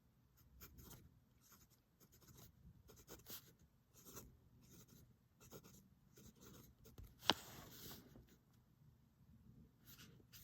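An extra fine fountain pen nib writing on paper with brown ink, giving soft, close scratchy strokes in irregular bursts, faint and quiet, with one sharper tap partway through.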